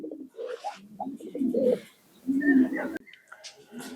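Fancy pigeons coo in soft, throaty bursts close by, several rolling calls overlapping with brief pauses between them.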